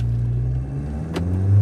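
A Mahindra Scorpio-N SUV engine rumbles low and steady, building toward a heavier roar as it accelerates hard from a launch near the end.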